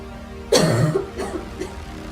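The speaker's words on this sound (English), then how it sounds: "I can't stop coughing." A sick person coughs at close range: one harsh, forceful cough followed by two weaker ones trailing off.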